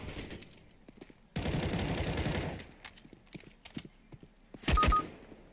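Gunfire in the video game CS:GO, a dense burst of rapid automatic shots lasting about a second, then scattered clicks and a sharp loud double report near the end, close and without talk.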